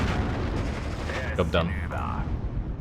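Tank gun shots in Steel Division: Normandy 44, a WWII Normandy battle near Cheux with a Panzer IV, booming a few times under steady battle din while someone talks over them.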